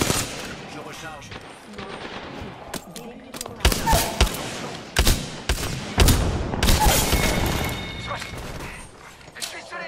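Rapid bursts of automatic gunfire and single shots from the Apex Legends battle royale video game, loud and dense with thuds and crashes, while a voice talks over the action.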